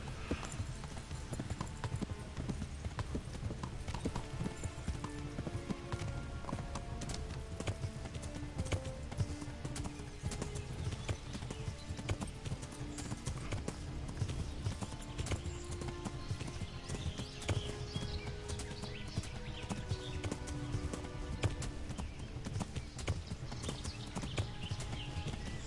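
Horse hooves clip-clop in a steady, rhythmic trot in the medieval game Kingdom Come: Deliverance, quiet and continuous over faint ambient game sound, with no talk.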